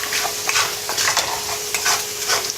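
Garlic frying in a pan over medium-low heat, giving a constant bright sizzle broken by repeated scraping stirs of a utensil against the pan, close and clear with no voices.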